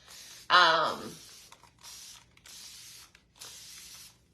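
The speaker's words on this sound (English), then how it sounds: "Because I just sprayed vinegar instead of my water." A handheld spray bottle mists vinegar onto a painted furniture piece during a colour-wash finish, giving four close, breathy hissing bursts in a steady rhythm after a brief gasp-like sound.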